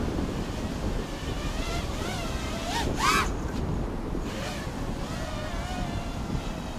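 Strong wind buffets the microphone outdoors during a flight of a Diatone X215 Tyrant S FPV drone, a constant gusty rumble with the drone's motors whining up and down in pitch over it.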